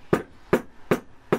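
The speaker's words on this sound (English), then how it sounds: "I didn't use a hammer, I just used a mallet here, yeah, plastic mallet" A plastic mallet gives four gentle, evenly spaced taps, each a short close knock followed by a brief quiet gap.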